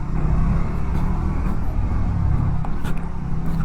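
Exhaust note of a Triumph Tracker 400cc motorcycle, a continuous loud low engine rumble held steady throughout, close by, with no speech.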